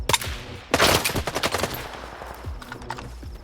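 AK rifle gunfire against bandits in the video game S.T.A.L.K.E.R. 2: a couple of sharp shots, then a burst of rapid fire that tails off into scattered, fainter reports and echoes.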